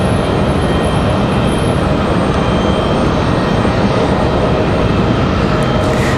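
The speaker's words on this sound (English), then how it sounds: "is American 2693 coming in from Dallas Fort Worth, 737-800." An American Airlines Boeing 737-800 arriving at Raleigh-Durham airport from Dallas Fort Worth, a loud, steady broadband jet roar that stays constant and close throughout, with no talking.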